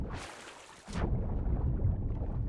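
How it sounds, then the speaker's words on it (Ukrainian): A rumbling thunderclap rolls through a thunderstorm in PUBG on the Erangel map, a broad crash that gives way to a steady low roar of rain and wind. "Гроза."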